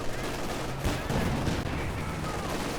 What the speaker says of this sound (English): Some mortar drops.